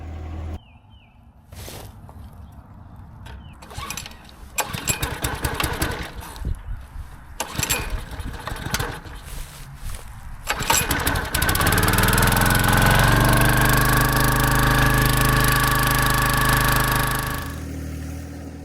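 A John Deere 1025R compact tractor engine cranks through repeated stuttering attempts, then catches and settles into a loud, steady running drone before easing off at the end; hard to start after sitting unused.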